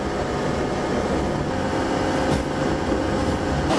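Constant rumbling clatter of a train rolling along the rails, heard from inside, steady and moderately loud.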